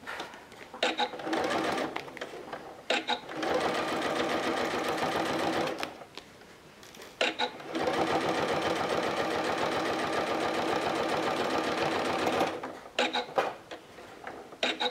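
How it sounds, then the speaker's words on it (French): Domestic sewing machine stitching through plastic with bias binding for an artist's case, running in two long steady bursts separated by brief pauses and short starts and stops, close and clear. "ça se coud très facilement, même si c'est une matière peu commune, le plastique, ça se coud très facilement"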